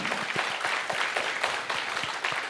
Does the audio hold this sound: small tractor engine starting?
no